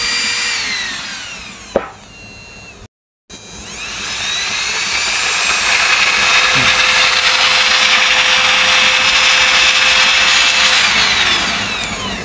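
A 775 DC motor runs at full speed on an adjustable 3 to 24 volt DC regulator adapter set to 20 volts, giving a loud, steady, high-pitched whine close by after a brief click and a short silent gap.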